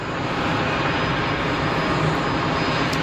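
A loud, steady jet roar fills the air, a broad rushing engine noise from a nearby Global Express business jet at Geneva Airport, with no break or change.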